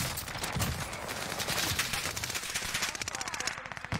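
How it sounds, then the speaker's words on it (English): Rapid automatic gunfire in the video game Champions of Caldera, dense bursts of shots running continuously and loud, the rhythm quickening toward the end. "we're now playing Champions of Caldera, which means we do start off with our gun"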